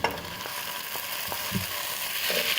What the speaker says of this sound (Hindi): अब इसमें मैं टमाटर डाल दूंगी